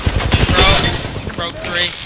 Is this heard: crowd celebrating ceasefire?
no